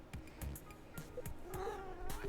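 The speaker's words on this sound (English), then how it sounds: "what do you want? Come here. Come here. Come here, kitty." A pet cat meows several times close by in short, repeated calls, with a person talking softly to it between the meows.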